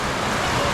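Summer rain falls in a Philippine province, a dense, steady hiss of drops pattering on surfaces, loud and close across the whole moment.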